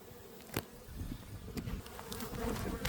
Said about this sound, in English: But there are a lot of bees in there